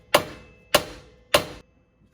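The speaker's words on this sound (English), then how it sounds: "just hammer the side of this right here" A hammer strikes the rear lower control arm joint of a Lexus SC400/300 three times, evenly spaced sharp metallic blows that ring briefly, close and loud with no talk.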